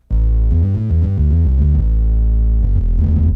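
Gritty, distorted synth bass from a Nord keyboard in a live studio setting, a loud close riff of rapid punchy notes with a throbbing, harmonically rich edge, playing alone.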